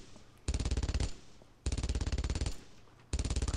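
MG42 machine gun in the Brothers in Arms video game firing three loud, extremely rapid bursts, each about half a second to a second long, separated by short pauses.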